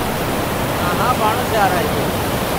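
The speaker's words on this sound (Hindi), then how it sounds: "कैसे ये दरिया चल रहा है ये पानी ऊपर से आ रहा है पहाड़ी से" Loud, constant rush of a river flowing down from the mountains at Balakot, Kanhar, close to the mic, with faint speech-like tones briefly rising above the water.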